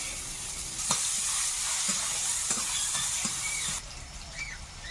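Cinnamon, chopped garlic and onion fry in hot oil with bay leaf and cardamom in a pan, giving a steady close sizzle with a few soft stirring taps and scrapes, no voices.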